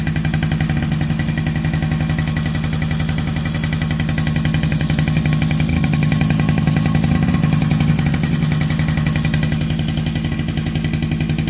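A Suzuki LT50 quad's small engine runs with a newly fitted carburetor, buzzing steadily and loudly at a fast, even idle close by, with no talk over it.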